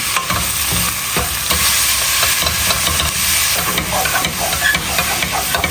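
Pork mince and garlic sizzle hard in a pan over high heat, a loud continuous hiss broken by stirring scrapes.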